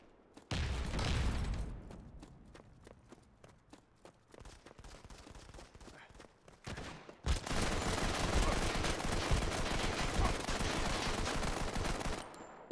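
Gunfire in the online shooter Modern Combat 5: a short burst of shots, then a run of rapid single shots, and finally a long, loud, sustained stretch of automatic fire that continues to the end.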